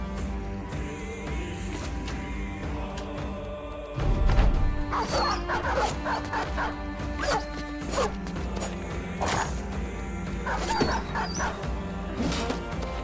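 Dogs whimper and yelp as they die in a video game, faint whines and short cries scattered over busy game sound effects, clanks and crashes.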